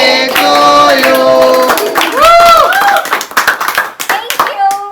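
A family claps after singing a birthday song at home, with quick hand claps mixed with a voice and other voices talking over them.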